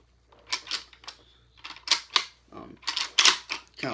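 The bolt of a Zastava N-PAP M70 AKM-style rifle is pulled back and worked, producing a series of sharp, close metallic clicks and clacks in irregular bursts with quiet gaps between.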